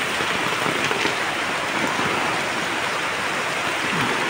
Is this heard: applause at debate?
no